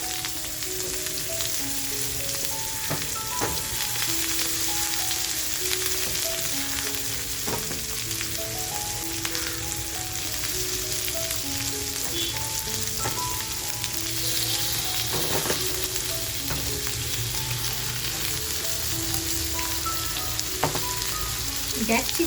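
Rawas (Indian salmon) pieces fry in a pan over a full flame, giving a continuous close sizzle with occasional crackles and pops, while faint music plays underneath.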